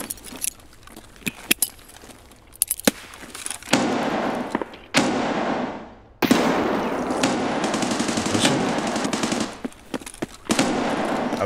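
Grenade explosion and gunfire in the shooter game Escape From Tarkov, with sharp gun cracks and a loud burst of blast and rumble that sustains and then cuts off, followed by more dense noise and shots.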